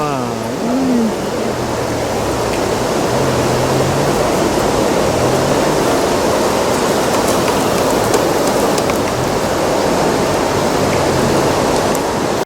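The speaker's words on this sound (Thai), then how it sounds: "เนี่ยฝนก็เริ่มตก" Rain begins falling beside an overflowing weir in Thailand during lift-net fishing, its heavy drops merging with a loud, constant rush of water that fills the whole scene.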